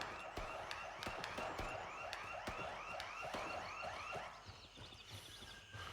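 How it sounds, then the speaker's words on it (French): A video game security alarm wails in repeated rising sweeps, loud and continuous for about four seconds before fading slightly, alone without talk. "il a activé l'alarme, ce con."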